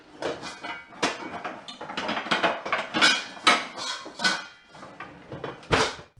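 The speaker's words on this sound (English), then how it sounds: "And the pots and pans clanging in the kitchen." Pots and pans clang in a kitchen within the Five Nights at Freddy's video game, a busy run of clattering metal knocks and rattles at close range, with no talking.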